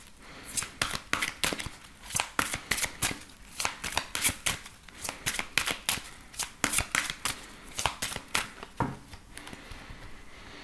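Tarot deck shuffled for a reading: rapid, close riffles and dry flicks of card stock in uneven bursts throughout, quiet and with no voices.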